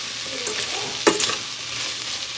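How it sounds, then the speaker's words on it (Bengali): Carrot, beetroot and potato fry in butter for a broken daliya khichdi, a low crackle under a sharp scrape of a spatula near the middle, with no talking. "আর এখানে আমি ডালিয়ার মধ্যে দিয়ে দেবো গাজর, বিট আর হচ্ছে আলু। তো এইগুলো এখন ভেজে নিচ্ছি।"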